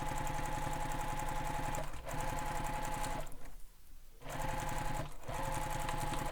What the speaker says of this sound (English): stitch the bottom and sides of this slip pocket